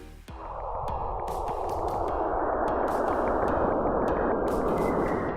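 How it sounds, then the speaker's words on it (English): Plasma waves between Saturn and its moon Enceladus, rendered as sound: a dense, continuous rushing hiss of electronic-sounding noise that swells in after a brief start, steady and loud, with occasional faint high crackles. "That's the sound of plasma waves moving between Saturn and its moon Enceladus."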